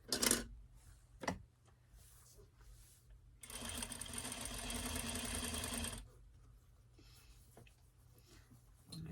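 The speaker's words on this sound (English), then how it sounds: "I'm going to go ahead and stay stitch the armholes too" A sewing machine runs a steady stay-stitching line around a dress armhole for a couple of seconds, a close, continuous whirring buzz, framed by a few sharp clicks and handling knocks before and quiet rustling after.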